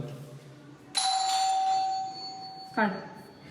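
A doorbell rings inside a newly occupied flat. A loud electronic chime sounds and lingers, then a second shorter tone follows, with a faint voice murmuring beforehand.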